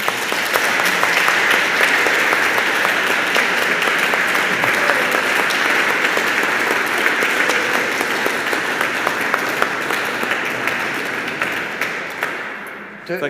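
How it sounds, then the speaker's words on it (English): A church congregation gives a loud, sustained round of applause at the end of an evening event, many hands clapping evenly throughout before fading out near the end. "I think a round of applause, please"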